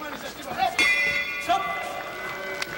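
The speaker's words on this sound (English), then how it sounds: "The bell rings, ending round one" A ring-side bell sounds to end round one of a Pride Fighting Championships bout, a bright sustained ringing tone under commentary and a noisy arena crowd.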